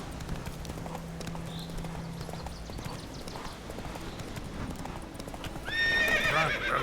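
Hooves clip-clop as a horse gallops in The Witcher 3, with a whinny rising near the end; the rhythmic hoofbeats run clearly throughout.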